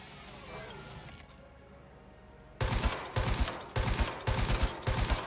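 Bursts of gunfire aimed at a turret in Watch Dogs Legion, five loud, evenly spaced volleys following a quieter stretch of game ambience, with a voice talking faintly underneath.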